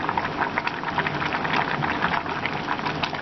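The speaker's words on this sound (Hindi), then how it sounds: "देखिए चावल हमारे अच्छे से बॉईल हो रहे हैं" Rice boils in a pot of water on a gas stove for chicken masala biryani, a steady, close bubbling and popping throughout.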